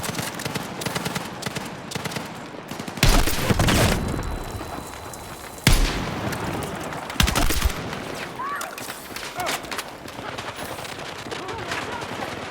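Battlefield 6 combat gunfire, rapid automatic bursts and crackling shots amid constant battle noise, with several loud, heavy volleys and booms standing out over the din.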